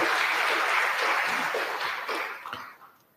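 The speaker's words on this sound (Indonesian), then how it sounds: "Tepuk tangan dulu." A university lecture audience at UNAND in Padang breaks into applause, a full burst of many hands that holds steady and then tapers off over the last second.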